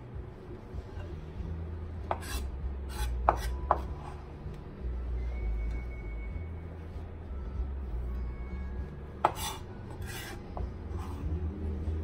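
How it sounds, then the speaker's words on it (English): A knife chops cooked turkey and its skin on a cutting board for turkey salad, giving a few scattered sharp taps over a steady low background hum, with no speech. "Skin needs a little more chopping."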